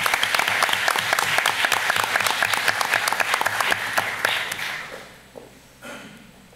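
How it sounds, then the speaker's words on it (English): At a school board of education meeting, an audience gives educators a loud, sustained round of applause from many hands, which then tapers off and dies away into quiet room noise with a few stray sounds. "So let's give them all a round of applause."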